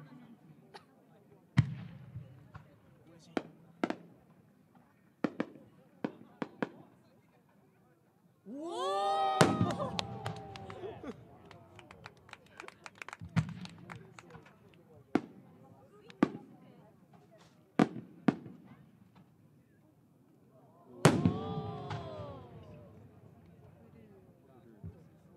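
Scattered fireworks bursts pop and crack at irregular intervals, with a couple of louder rising whistles and booms, heard from a moderate distance at the 2024 Omagari fireworks competition.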